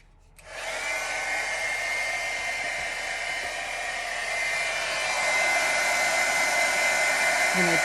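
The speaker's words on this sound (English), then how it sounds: "sorry for the noise of the heat gun" A heat gun blows hot air on embossing powder, switching on abruptly and then running as a loud, steady, close rushing whoosh that stays constant and grows slightly fuller toward the end.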